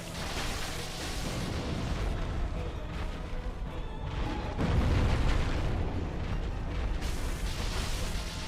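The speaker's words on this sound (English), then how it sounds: "It's amazing that I could withstand the explosion." A rumbling explosion in the video game Dark Souls, a dense, roaring blast with crashing debris and mechanical grinding that swells midway and stays loud throughout.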